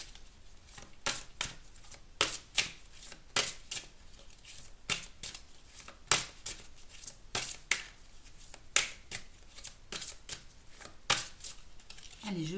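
Oracle cards being shuffled by hand at close range, a steady run of crisp riffling bursts and soft slaps repeating throughout with no talk over them.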